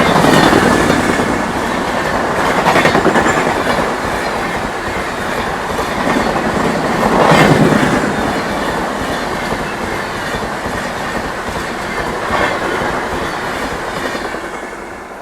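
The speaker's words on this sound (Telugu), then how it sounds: "జసీద్ జంక్షన్ వాస్కో డ గామా ఎక్స్ప్రెస్" The Jasidih–Vasco da Gama Express passes through Ghatkesar station, a loud steady rumble of coaches with rhythmic clickety-clack of wheels on rail joints and occasional wheel squeal, sustained throughout without talk.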